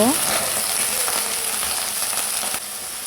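Broccoli with a little salt being stirred as it fries in a pan, a close, steady sizzle broken by a few scraping and clinking strokes of the spatula.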